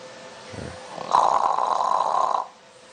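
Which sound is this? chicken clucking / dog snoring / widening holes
dog snoring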